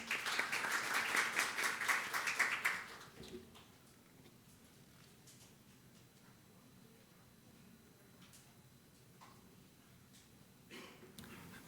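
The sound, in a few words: audience applause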